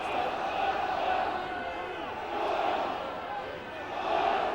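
Rugby crowd at a London Wasps versus Birmingham Solihull match cheering to urge on the home side, a steady broad roar swelling and easing in waves under commentary talk.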